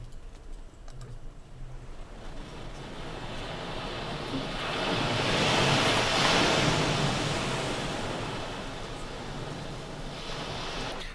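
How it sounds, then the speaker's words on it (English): Ocean waves crash loudly onto the shore in a continuous roar that swells to a peak mid-way and then eases, with no voices. "5 minutes of loud ocean waves crashing."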